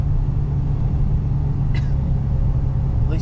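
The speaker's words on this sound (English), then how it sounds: "That engine runs smooth." Steady low rumble of a 2005 Chevy Colorado truck engine idling close by, smooth and continuous, with a couple of brief higher sounds over it.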